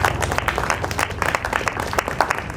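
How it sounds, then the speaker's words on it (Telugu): A church congregation claps during worship, a continuous dense patter of many hands at moderate volume with a low background hum. "చప్పట్లు కూడా సార్ దేవుని ఆరాధనకు."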